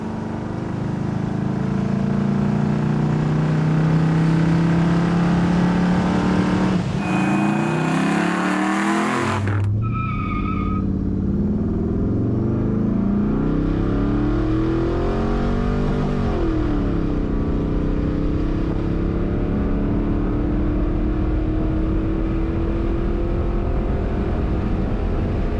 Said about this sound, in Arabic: إذا أنتم بتدققوا على عداد السرعة راح تحسوا إنه هاي السيارة سريعة وصوتها طربي